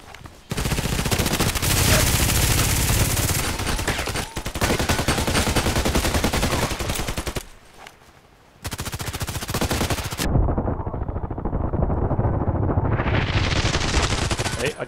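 Sustained automatic gunfire in Contract Wars, long loud bursts with a brief pause near the middle, then continuous firing resuming, with little speech.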